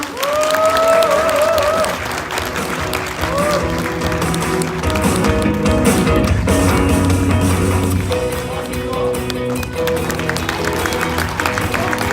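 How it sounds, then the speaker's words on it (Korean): Welcoming applause from party members gathered at a new-member education lecture, steady clapping mixed with background music throughout, with a brief tonal sound near the start. "환영의 박수를 부탁드립니다"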